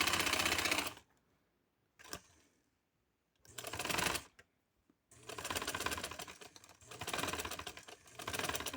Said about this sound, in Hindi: इस तरह सिलाई लगा के तो फिर मैं सीधा करके प्रेस करके आपसे मिलती हूँ।